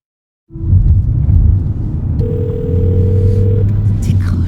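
Phone ringing out while calling David in the video game Alan Wake 2, with a steady ringback tone over a loud, continuous low rumble that starts abruptly and fills the whole clip.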